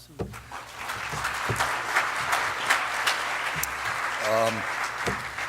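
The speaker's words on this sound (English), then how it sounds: "So I think they deserve a round of applause" A crowd applauds for the faculty at a senior community awards night, steady clapping throughout with a brief voice and a few sharper claps poking through.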